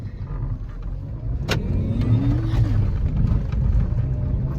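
A car pulls up and arrives, its engine whirring steadily with a rising, slightly revving tone, moderately near and with no talk over it.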